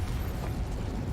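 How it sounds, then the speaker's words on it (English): A Confringo fire-blast spell explodes in Hogwarts Legacy, a dense, rumbling burst with heavy low-end boom that fills the whole short moment at steady loudness. "Confringo!"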